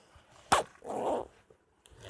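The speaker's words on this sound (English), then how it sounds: "as I heard my dog bark" A dog gives a sharp nearby bark followed by a longer growling, rough vocal burst and a faint later yelp, set against a quiet background.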